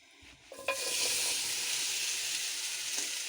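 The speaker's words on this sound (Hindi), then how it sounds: "ये मैंने एक ली है कढ़ाई, इसको मैंने गरम कर लिया है। अब हम इसमें टमाटर शामिल करते हैं।" Tomatoes drop into a hot kadai with a short thump and clatter, then a loud, steady sizzle of frying fills the rest, close by, with no talking.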